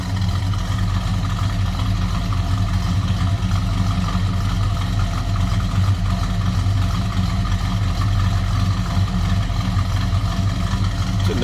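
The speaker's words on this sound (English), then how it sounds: "It's a nice sounding car, nice deep exhaust note." A 1972 Buick Skylark GS convertible with a 350 V8 idles steadily from behind the car, its deep exhaust rumble holding a constant, fairly loud drone through the whole stretch with no voices.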